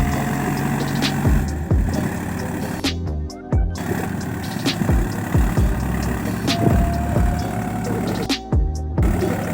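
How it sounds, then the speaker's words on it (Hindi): A farm tractor strains uphill out of wet, muddy ground while hauling a waterlogged trolley, its engine drone steady and close, broken by two brief gaps of quieter rumble. "फिर हमने अपने ट्रैक्टर को चढ़ाने की कोशिश की ऊपर।"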